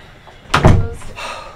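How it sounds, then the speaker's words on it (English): A door swings shut with a single solid thump and brief rattle, close and fairly loud, with a faint room tone around it. "Door open or? Door closed, please."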